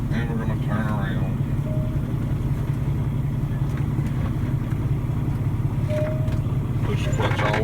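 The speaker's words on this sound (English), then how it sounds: "put the truck back in low range, and we're going to turn around" A truck with a 10-speed manual transmission in low range, its engine running in a steady, loud low rumble as it turns around, with someone talking over it.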